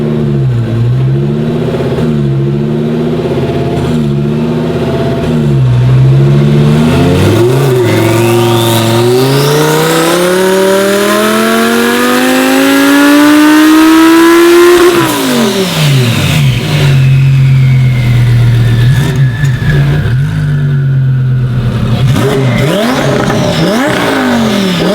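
Twin-turbo Audi R8 engine revving hard, climbing in a long sweep to a loud peak, dropping back, then blipping a few more times before settling to idle, with no voices.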